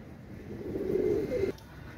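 A white-eyed Teddy pigeon, a Pakistani fancy breed, gives one low, drawn-out coo that rises and then stops abruptly, close by over a quiet room hum.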